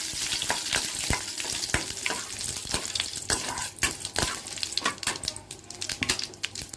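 Curry leaves and popped mustard seeds sizzle and crackle in hot oil, tempering for a chutney, with a loud, dense fry and sharp spitting pops close up and no talking.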